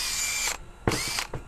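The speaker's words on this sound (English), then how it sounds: "I'm going to drill some pilot holes with my countersink." A power drill with a countersink bit bores pilot holes through wood for a folding table's leg unit: two loud whirring bursts, the first about half a second long, then a second start with a brief tail, close by with no talking.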